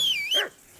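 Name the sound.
dog barking in Kingdom Come Deliverance 2, video game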